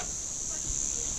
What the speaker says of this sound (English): Cicadas. So hard to see.